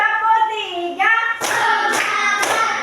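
A class of children clapping a counted ice-breaker pattern in a classroom, with a voice calling out before bursts of massed clapping that come in three short waves.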